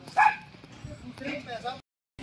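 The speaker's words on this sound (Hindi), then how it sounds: "सोनू कुत्ता" A dog gives a sharp yip followed by softer whimpering barks, close by, with people talking over it before a brief silence.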